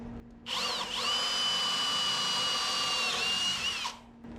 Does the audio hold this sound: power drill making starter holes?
yes